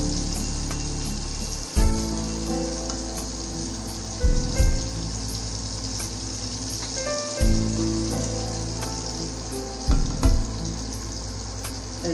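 Rezala spice paste sizzling in a kadai over low heat, a steady close crackle with a few louder bursts as it is stirred, background music running underneath throughout.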